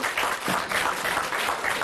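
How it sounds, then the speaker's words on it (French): Studio audience applauding on a French TV debate set, steady dense clapping throughout at moderate loudness with no speech over it. "Je voudrais que vous applaudissiez Karima d'avoir accepté d'être venue."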